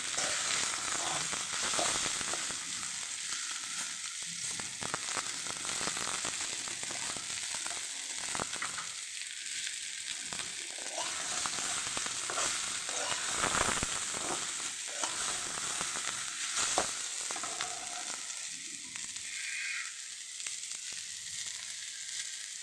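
Chili and onion frying in a pan, a steady loud sizzle that runs without break throughout with occasional stirring scrapes and crackles, no voices.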